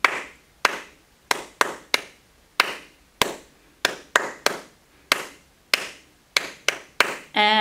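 Hands clap along to a children's fruit song at a preschool storytime, roughly seventeen crisp, close claps in an uneven sung rhythm with short quiet gaps between them.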